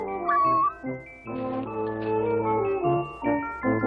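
A cat meows several times in quick succession, drawn-out and whiny, close by and loud with no talking.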